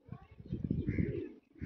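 A caught female pigeon, leg-banded, coos softly at close range in a short throaty burst of low rolling notes, with a brief pause before the call resumes.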